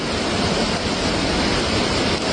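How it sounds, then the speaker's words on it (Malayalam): Loud, constant roar of rushing flash floodwater covering rocks in Kerala, a thick unbroken wash of noise with no pauses or voices, close by. "ആ കല്ലെല്ലാം മൂടി വെള്ളം കൂടിക്കൊണ്ടിരിക്കുകയാണ്"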